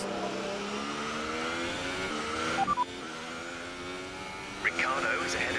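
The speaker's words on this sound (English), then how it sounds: "showcasing our amazing straight line speed, overtaking Hülkenberg on the start-finish line" A Formula 1 car in a video game at Bahrain roars at high revs down the start-finish straight while overtaking, a steady harmonic engine whine with brief gear-shift blips, under continuous commentary.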